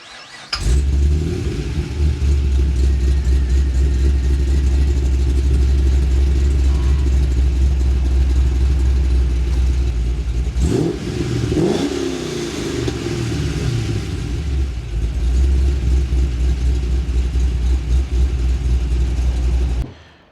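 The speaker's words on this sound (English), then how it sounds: "let's go for a drive in a chopper reed manual" A car engine fitted with a Chopper Reid camshaft and CNC cylinder heads, manual transmission, starts up and runs loud and close with a deep steady drone, then blips and revs midway before settling back to a sustained roar.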